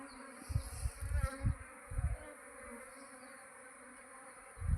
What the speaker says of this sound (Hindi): इधर उधर पूरी फैल गई वो मधुमक्खियाँ